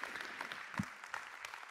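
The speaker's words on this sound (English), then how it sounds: "I almost feel like that's something worth applauding." A church congregation applauding briefly, a short burst of scattered claps at moderate distance, fairly quiet and fading out within two seconds.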